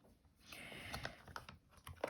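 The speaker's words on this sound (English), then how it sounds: "You just need to type an amount, then to press next." Keypad buttons on a SumUp card reader are pressed in a short, faint run of quick clicks close to the microphone, uneven in spacing, with a slightly louder press at the end.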